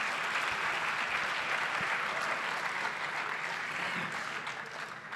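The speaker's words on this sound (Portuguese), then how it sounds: "Mais uma salva de palmas para ele." A crowd applauds steadily, a dense wash of clapping that holds evenly for several seconds and begins to fade at the end.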